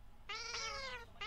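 Cat meowing in a video game: one clear, drawn-out meow followed by the start of another, close and distinct over a quiet background.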